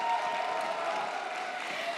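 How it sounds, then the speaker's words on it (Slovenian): Audience applause at a cosplay competition event, a steady, dense wash of clapping filling the whole moment at moderate volume with no voices over it. "En aplavz za TCG Park."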